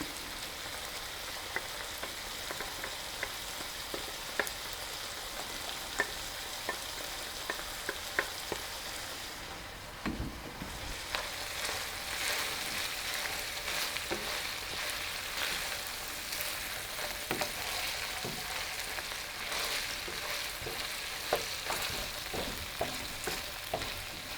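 Garlic crackles in hot grease with hamburger meat for a stew, a steady fine sizzle with scattered pops that briefly dips before a fresh burst of crackling, continuing evenly with no voices.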